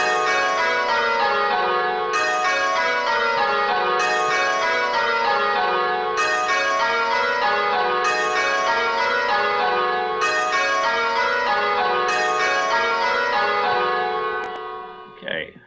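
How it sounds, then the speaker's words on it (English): Six church bells ring rounds with two bells swapped, each descending sequence of clear, resonant strikes repeating at a steady pace. The pattern continues for several cycles, then the ringing fades and dies away at the close. "So you're basically listening out for which bells have swapped. Starting on 6 bells"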